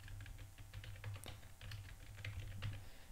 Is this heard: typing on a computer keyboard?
yes